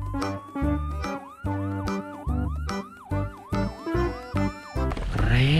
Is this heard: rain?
no